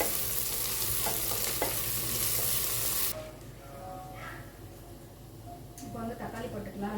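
Ginger garlic paste frying with softened onions in a pan, first a loud bright sizzle, then a quieter frying hiss with stirring scrapes after the paste goes in.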